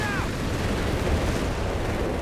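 Artillery strikes in Company of Heroes 3, a World War II real-time strategy game: a dense, continuous rumble of explosions and booming impacts fills the whole stretch at steady loudness, with a brief whistling shell streak at the start.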